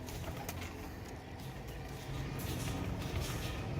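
Tiger breed pigeons cooing, soft low repeated coos mixed with rustling and faint background noise, fairly close and steady.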